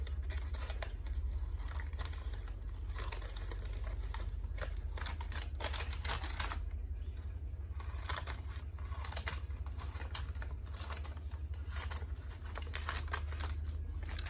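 Scissors cutting through a sheet of paper for a handwritten petition, a steady run of close, crisp snipping and rustling strokes that continues throughout with no talking.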